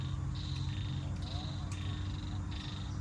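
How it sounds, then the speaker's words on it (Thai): A single frog croaks faintly in the distance in a garden, short repeated calls over a steady outdoor hum of insects and low background noise. "มีกบอยู่แถวนี้แหละครับ"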